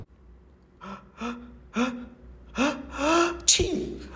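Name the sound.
voice imitating a sneeze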